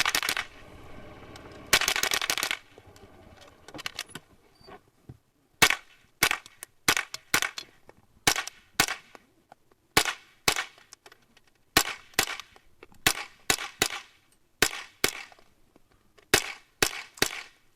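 Rapid mini rifle fire at a shooting competition: sharp cracking shots arrive in quick clusters, a dense burst early on followed by many separate strings of two to four shots, crisp and close against quiet gaps.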